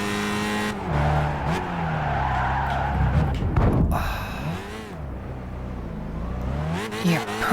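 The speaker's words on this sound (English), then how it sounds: "I hate that tire sound." Tire squeal and skidding from cars in the racing video game Gran Turismo 5, with engine drone and screeching tires sliding through corners, under steady talk.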